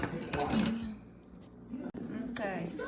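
A utensil clinks and scrapes against a bowl as avocado oil is stirred into homemade pizza dough, with short metallic chinks mixed in with voices talking close by.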